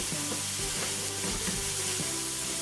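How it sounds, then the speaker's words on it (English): Garlic and parsley sizzle steadily in hot oil, a dense crackling hiss with occasional soft knocks of a utensil stirring the pan. "after about a minute of frying up the garlic and stuff in the oil"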